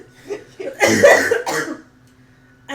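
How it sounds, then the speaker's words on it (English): A person suffering from allergies and a cold coughs: a couple of soft throaty lead-in sounds, then one loud harsh cough burst followed by a shorter second cough, close and alone. "the cough keeps coughing"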